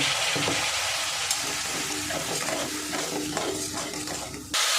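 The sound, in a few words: spice paste frying and being stirred in a pan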